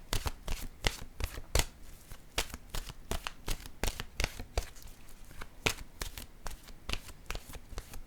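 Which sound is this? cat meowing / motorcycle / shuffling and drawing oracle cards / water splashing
shuffling and drawing oracle cards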